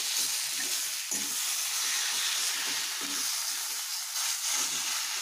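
Potatoes, hyacinth beans and tomatoes hiss and sizzle steadily in a hot pan, with soft scraping stir sounds low underneath throughout, close and continuous.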